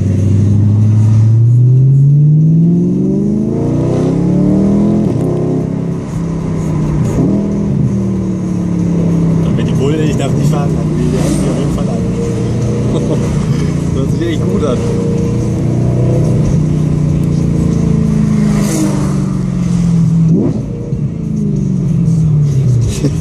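BMW E92 M3 engine at 420 PS revving during a drive, loud cabin-heard engine roar sweeping up and down in pitch with throttle blips and gear changes, with people talking over it.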